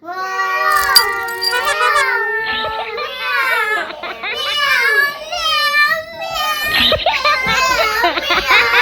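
A little boy imitates a cat, voicing a string of loud, wavering meows one after another with short breaks, some sliding up and down in pitch, close and a bit cry-like.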